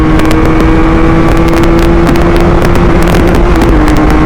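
A 2023 QJ Motor SRK 400 two-cylinder naked motorcycle is ridden hard through the gears, its engine giving a loud, continuous close-up drone with a rising pitch, wind buffeting and brief shifts breaking the tone.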